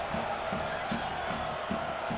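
A San Jose Earthquakes home crowd jeers LA Galaxy goalkeeper Josh Saunders during a 2012 match. The crowd noise is a steady, fairly distant roar with a rhythmic, chant-like pulse repeating throughout.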